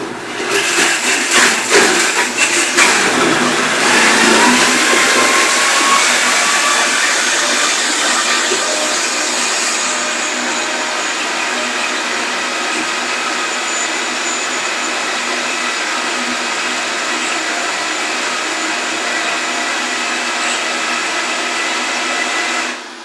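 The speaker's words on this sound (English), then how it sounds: "you want to stop in between so that you don't over process or burn out your blender here" A blender processes a thick vegan raspberry fudge mixture, starting with rough clattering whirs and then settling into a loud, steady motor whine that runs for over twenty seconds before stopping abruptly.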